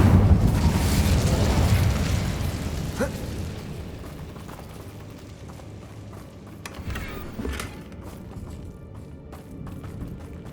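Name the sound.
Incendio fire spell from the video game Hogwarts Legacy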